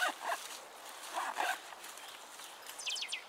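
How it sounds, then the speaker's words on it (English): Someone works the zipper of a small gear pouch with elastic straps, several quick rasping pulls close to the ear, ending in a brisker run of short zips. "Zips all the way around."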